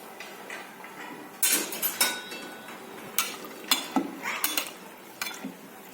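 Ingredients being mixed in a cooking pot while preparing chicken daalcha with fresh coriander, giving light scraping and clinking bursts at an irregular rhythm, close and moderately quiet.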